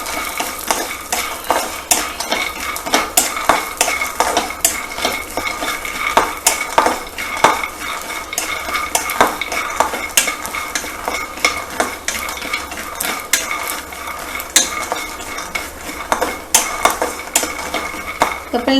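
Cassava pieces frying in a pan for a healthy mixture snack, with dense scraping and clinking of a metal spoon stirring against the pan over a soft sizzle, continuous and close.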